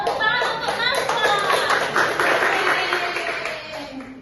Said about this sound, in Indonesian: Tepuk tangan untuk Naswa.